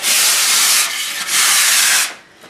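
Close, loud broadband abrasive hiss of sanding a rough patch of ceiling near a light fixture, two sustained strokes with a brief dip between, fading out at the end.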